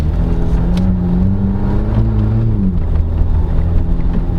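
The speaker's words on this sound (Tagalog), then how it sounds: "the exhaust note, actually I like the exhaust note" A 2019 Jeep Wrangler Unlimited Sport (JL) on the move, its engine and exhaust giving a loud, steady low drone with a brief rise in pitch as it accelerates, heard from inside the cabin.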